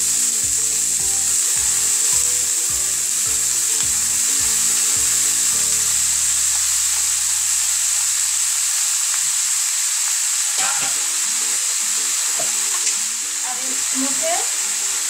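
Radish greens fry in a pan with a steady, loud sizzle throughout, broken by occasional stirring scrapes, along with a faint rhythmic mechanical thumping early on.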